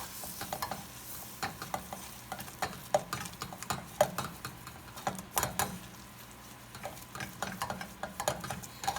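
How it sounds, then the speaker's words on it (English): A roux of melted butter and flour stirred in a pan over low heat: quiet sizzling under irregular spoon scrapes and taps against the pan, close and soft, with no one talking. "Give that a stir."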